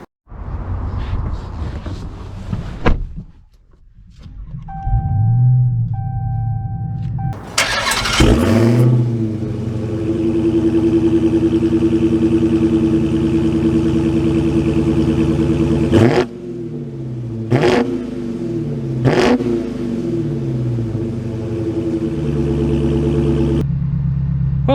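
A 2022 Dodge Charger Hellcat Widebody engine barks to life after a brief clatter, then holds a loud, deep, rumbling idle and revs up as it pulls away, with a few sharp throttle blips along the way.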